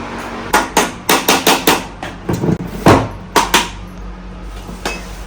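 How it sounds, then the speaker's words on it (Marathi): Metal cooking pots get banged hard in a fast series of about a dozen sharp, ringing strikes, close and loud, bunched in quick bursts with short pauses, then stopping toward the end. "चायनीजवाल्यांसारखं तुम्ही पण भांडी ठोकीत घेतलं"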